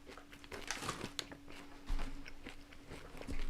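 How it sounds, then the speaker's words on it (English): Dark chocolate candies being bitten and chewed close up, with sharp crunches and softer mastication sounds in an irregular rhythm, fairly quiet overall. "you might hear random crunching going on in the background"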